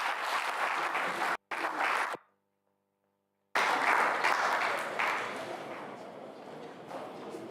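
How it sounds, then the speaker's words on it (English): An audience at a university valedictory lecture claps to welcome the event chairman, dense applause broken by a short gap of near silence, then resuming and slowly tapering off. "Please, another round of applause for the chairman of this event, Dr. Akindele Ito."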